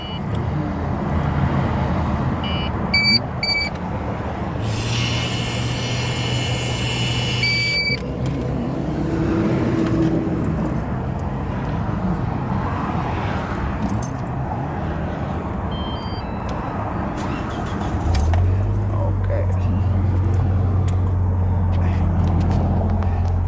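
A car engine idles steadily with an ignition interlock device fitted, and electronic tones and beeps sound over the low hum, which rises toward the end, with some talk.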